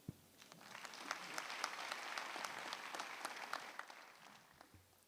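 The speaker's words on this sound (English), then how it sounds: "Can we give another hand of applause, please, for that warm welcome?" Applause from an audience at a university graduation ceremony, steady clapping that swells and holds for several seconds before fading, moderately distant with no talk.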